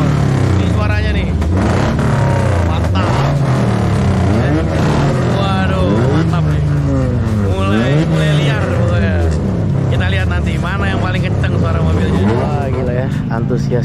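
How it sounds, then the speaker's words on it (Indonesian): Modified cars warming up at a car contest in Pekanbaru, engines started and revved with rising and falling drone, loud and continuous under a crowd's chatter and shouting throughout. "teman-teman udah lagi mulai pemanasan nih, mulai menghidupkan mobilnya nih. Oh, ini suaranya nih."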